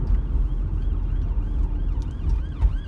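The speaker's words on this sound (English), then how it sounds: "As you can see, we've just been overtaken by a police car." A police car siren wails past while overtaking on a motorway, the rising and falling tone riding over loud, steady road and engine rumble inside a moving vehicle, swelling briefly near the end.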